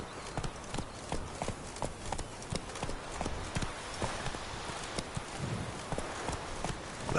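Roach, the horse in The Witcher 3, gallops with a quick, regular clip-clop of hooves. The beats are crisp and fairly close and run steadily throughout, with no voices over them.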